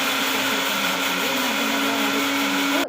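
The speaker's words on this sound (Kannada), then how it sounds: "ಇದನ್ನೆಲ್ಲ ತರ್ತರಿಯಾಗಿ ನೀಟಾಗಿ ರುಬ್ಕೋಬೇಕು." A mixer grinder grinds garlic with cumin and spices as a loud, continuous high whirring drone that runs steadily, then cuts off abruptly at the end.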